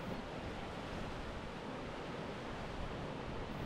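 Black Sea surf roars continuously, a dense wash of water splashing on rocks with wind buffeting the microphone.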